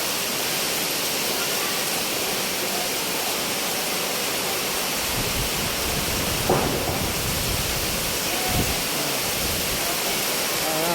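Strong typhoon Aghon wind roaring steadily outdoors, a loud continuous broadband rush with brief gusting swells, no voices.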